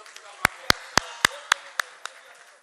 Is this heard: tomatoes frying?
no